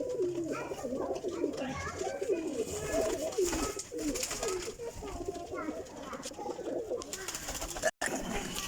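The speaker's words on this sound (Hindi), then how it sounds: "देखो जी कबूतर" Several flying breeder pigeons coo continuously close by, soft rolling warbles overlapping throughout against a busy, noisy background.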